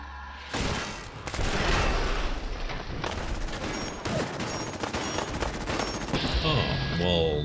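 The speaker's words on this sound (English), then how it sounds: "Turrets are doing some work." Defensive turrets in Fallout 4 firing in sustained bursts, rapid gunfire and impacts layered with overlapping shots and a few booms, loud and continuous through the whole stretch.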